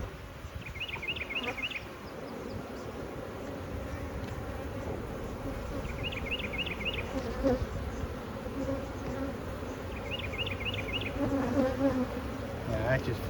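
Honey bees buzz densely and continuously around an open Flow Hive during an inspection, a close, steady drone with faint chirping bird calls repeating in the background and soft handling sounds.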